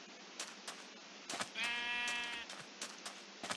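A single Minecraft sheep bleats once, a wavering, quavering bleat lasting about a second, amid soft game clicks and footsteps.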